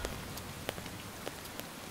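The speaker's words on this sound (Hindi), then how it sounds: "यहाँ पर बारिश हो रही है।" Rain falling in a steady, faint patter, with a few sharper drops ticking out now and then.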